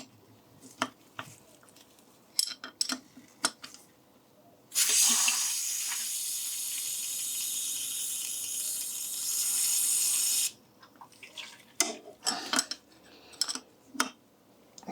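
Brake fluid hisses out through a loosely fitted hose while a Rolls-Royce Shadow accumulator valve body is bled. One loud, steady rush lasts about six seconds, with clinks and small clatters before and after.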